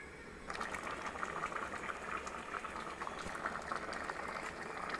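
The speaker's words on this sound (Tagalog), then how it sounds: "Lagyan mo ng gatas." Coconut milk simmers with sweet potato in a pot while milk is added, giving a steady quiet bubbling and faint liquid sounds throughout, with no speech.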